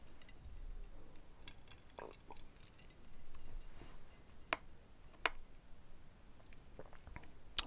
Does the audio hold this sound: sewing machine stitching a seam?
no